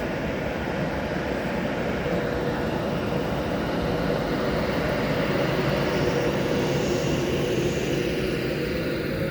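A train pulls out of Coventry station bound for London Euston, a broad steady rumble and engine drone that builds slightly and holds, loud and close throughout with no talking.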